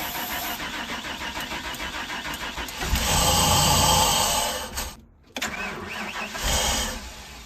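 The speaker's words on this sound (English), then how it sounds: "All right, we know it cranks and runs." An old RV engine that has sat unmoved for 15 years cranks for a few seconds, then catches and runs loudly and roughly, with a brief dropout near the end before it keeps running.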